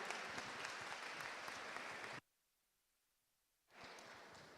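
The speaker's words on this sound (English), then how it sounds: "let's have another round of applause for all of our podium finishers for pairs today" Applause for the pairs podium finishers at the UKJPA UK Nationals 2025: a crowd claps steadily and fairly loud for about two seconds, goes silent, then the clapping resumes near the end.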